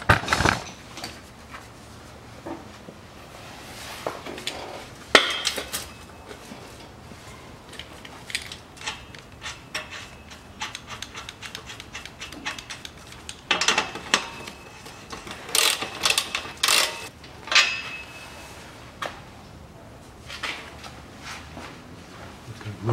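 A ratchet tightens a muffler clamp under a Range Rover Evoque 2.2, with clusters of sharp clicking and metallic knocks spread across the stretch, close and moderately loud, with quiet pauses between.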